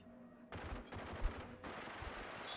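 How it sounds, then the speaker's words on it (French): Machine gun fire in a video game, sounding as three sustained bursts of rapid shots, each broken off abruptly, fairly loud and with no talk over them. "elle fait pas énormément de dégâts cette mitrailleuse"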